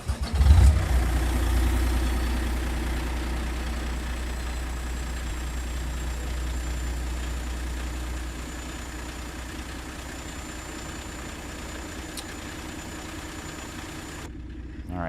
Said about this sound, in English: When they stop, you can hear the engine rocking back and forth on compression,